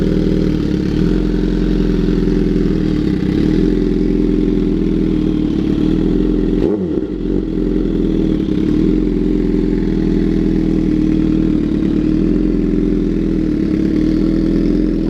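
A 2011 Suzuki GSX-R 750 with an M4 GP exhaust run without a baffle idles cold, giving a steady, loud, throbbing rumble with a brief dip partway through.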